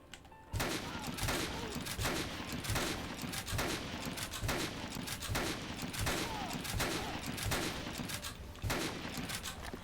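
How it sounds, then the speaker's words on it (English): Repeated rifle shots in the Dead Rising video game during a 3 AM mall raid, loud and steady, arriving in a regular rhythm of roughly one every second with reverberant tails, and no talking. "let's snipe these boys out"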